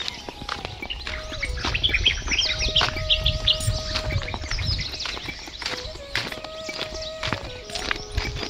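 Birds chirp and tweet around a village on the southern bank of the Narmada, with scattered calls over a low outdoor rumble, joined by faint footsteps and hoof-like clip-clop at moderate distance.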